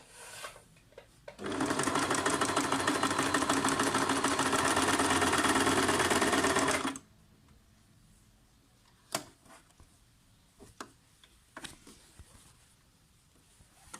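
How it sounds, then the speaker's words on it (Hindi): A Singer Tradition 2263 sewing machine run by foot pedal stitches for about five seconds with a loud, fast, even mechanical whir close by, then stops, leaving a few sharp clicks and taps in near quiet. "अब उसके बाद आपने इसको पैर की मदद से चलाना है।"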